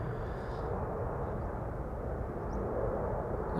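A wide-body airliner takes off at Amsterdam Schiphol, its engines giving a steady, broad roar that stays even and fairly loud the whole time, with no voices present.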